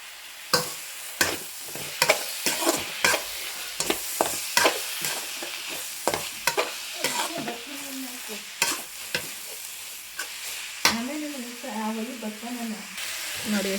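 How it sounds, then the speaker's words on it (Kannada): Tomatoes frying in a pan for chitranna, stirred with a utensil: repeated sharp scraping strokes at an irregular rhythm over a steady sizzle, with a few faint voice-like sounds in the background. "ಈಗ ಹುಳಿಗೋಸ್ಕರ ಟೊಮೆಟೊ ಹಾಕ್ತಾಯಿದ್ದೀನಿ."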